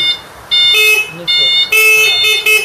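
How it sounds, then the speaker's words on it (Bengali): A Mr. Paul battery-powered electric easy-bike horn sounds in several short, loud electronic beeps, close by and bursting on and off in an uneven rhythm. "এখানে আপনার হর্ন"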